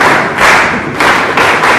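An audience claps together in a steady rhythmic pattern, a loud, full crowd sound that swells in repeated bursts with no talking over it.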